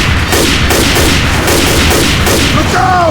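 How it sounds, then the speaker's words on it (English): Rapid gunfire in the zombie shooter Left 4 Dead 2, a dense, loud stream of overlapping shots and bursts filling the whole stretch with no pause. "Stop shooting me!"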